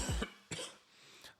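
A person coughs two or three times in quick succession, close and fairly loud, with short rough bursts and brief gaps between them.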